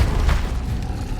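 A Confringo fire-blast spell in the Hogwarts Legacy video game lands as a loud, low booming thud with a brief burst of crackle, set against steady game ambience.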